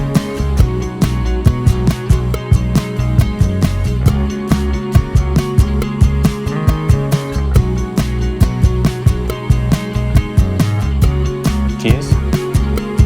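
A drum kit comes into a rhythmic acoustic song, with steady punchy hits driving the groove alongside bass and strummed guitar, loud and continuous, with no voices.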